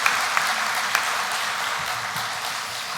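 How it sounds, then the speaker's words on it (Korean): Congregation applause fills a church hall at a Sunday afternoon worship service at Pyeonggang Church: dense, steady clapping that holds for about three seconds, with a few sharper claps near the start and no talk over it. "감사와 격려의 박수 한번 드립시다."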